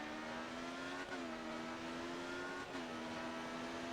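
A race car in GRID Autosport drives on a clear track, its engine a steady mid-distance drone with slight pitch shifts and brief dips, fairly quiet and with no talk over it.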